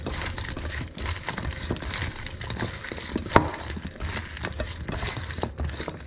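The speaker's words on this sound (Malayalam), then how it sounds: "ഒന്ന് മിക്സ് ചെയ്ത് കൊടുക്കാം." Ivy gourd pieces being mixed with turmeric and chili powder in a pan, producing a steady soft scraping and stirring patter with light utensil clinks and one sharper knock.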